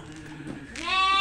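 Sheep bleat in a pen at a large mountain farm that breeds and fattens goats and sheep. A drawn-out, fairly loud bleat rises at the end after quieter background murmuring that may include voices.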